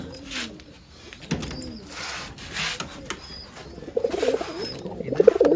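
Pigeons coo in soft, rolling throaty calls, several overlapping near by, with a few brief rustles and flutters between them.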